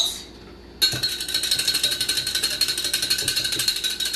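Oil and balsamic vinegar dressing whisked briskly in a bowl, a rapid, even series of close metallic clicks and taps that starts abruptly after a quiet moment and keeps a steady rhythm.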